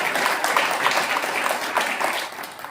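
An audience at a Hindi poetry recital claps for poet Sharad Yadav, producing a steady, fairly loud wash of applause that tapers slightly toward the end, with no voices over it.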